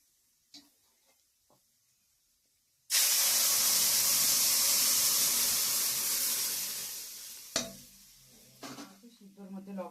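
Bay leaf, dried chilli, onion, garlic, cumin and black gram dal hit hot oil in a tempering, a sudden loud, dense sizzle that bursts in and roars for several seconds before easing, with light clatter and brief spoken words around it.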